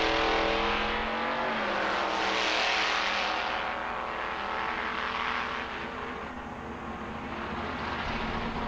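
Drag racing cars, one a big black Camaro, roar down the strip at a dragway, a loud continuous engine blare that swells and shifts as they accelerate past, with crowd and ambience mixed in.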